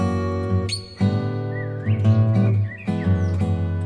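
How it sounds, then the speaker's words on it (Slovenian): A grey heron's call comes through as loud, harsh, sustained croaking with a rich buzzy tone. Sounding close, it is broken by brief gaps and a few faint higher notes. "Siva čaplja."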